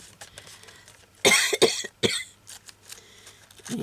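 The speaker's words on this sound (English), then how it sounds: "Things make me cough now" Two or three harsh, close coughs in quick succession, then a quieter throat-clearing burst, with faint background rustle between them.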